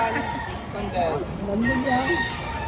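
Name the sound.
chickens crowing and clucking at a market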